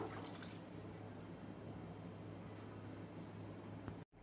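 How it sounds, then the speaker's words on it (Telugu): A little water is poured into a wok fitted with a small stand, ready for steaming a capsicum and egg dish; a steady, even splashing hiss runs close by for about four seconds with no talking. "ఇప్పుడు మనం బాండీ పెట్టుకొని ఒక చిన్న స్టాండ్ పెట్టుకోండి బాండీలో కొంచెం నీళ్ళు వేసుకుందాం"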